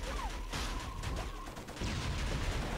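Alternate fire of a weapon in Killzone, a loud burst of rapid crackling shots and blasts with a brief whistling tone, continuous and close, no voices.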